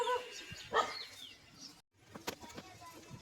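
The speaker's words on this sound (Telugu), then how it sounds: "కుక్క అరుస్తుండేసరికి" A dog barks a few times in short bursts nearby, with birds chirping faintly in the background.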